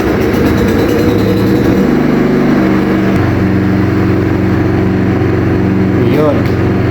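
A small engine just cleaned and repaired runs steadily and loud, with a low continuous drone whose pitch steps a few times, and a brief rise near the end.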